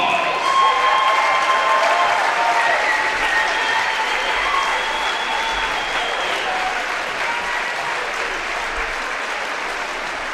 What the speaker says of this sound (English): please rise and give a big round of applause